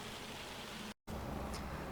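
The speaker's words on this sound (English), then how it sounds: "See when this rain dies off, because that's getting very heavy now" Heavy rain in Farming Simulator 25 hissing as a steady broadband wash, with a brief dropout near the one-second mark before the downpour resumes just as strong.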